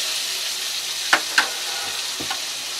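Butter and oil heat together in a pan on the stove while chicken tikka is cooked for biryani. A soft, even sizzle runs throughout, with two sharp pops near the middle and a fainter tick later on.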